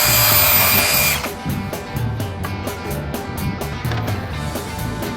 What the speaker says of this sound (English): Now I can lean the ladder out and hook my drill up and start lowering it down.